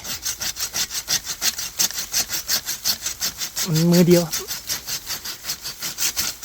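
Steady back-and-forth hand sawing through a sweet bamboo branch, rhythmic rasping strokes close by, with a short spoken phrase partway through.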